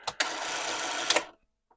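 A Commodore 1525 dot-matrix printer whirs and buzzes mechanically for about a second after a couple of sharp clicks, then stops abruptly, close and moderately loud.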